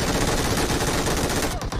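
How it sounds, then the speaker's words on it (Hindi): Sustained M249 light machine gun fire from PUBG Mobile, a dense rapid burst running continuously for nearly two seconds and then breaking off abruptly, loud and close. "ये लाइट मशीन गन ना"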